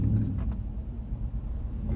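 Deep, throbbing low exhaust rumble from a Nissan Titan pickup fitted with a Flowmaster exhaust, a steady close idle drone with slight pulsing and no voices.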